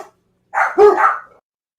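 A pet dog barks indoors at home, likely set off by wind at the door: a short burst of two or three loud, close barks run together, then silence.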